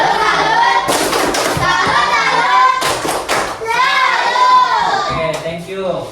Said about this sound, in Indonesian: ayo beri tepuk salut